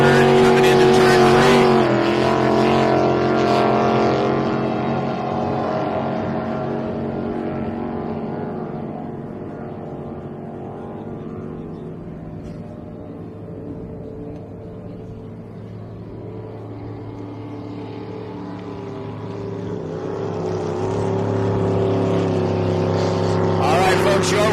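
Race boats at the Parker Enduro roar past, engines loud and droning, fading into the distance and then swelling again as more boats approach, with an announcer talking over the noise.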